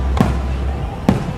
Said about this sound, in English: this time we're doing fireworks